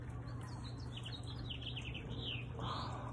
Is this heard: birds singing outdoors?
yes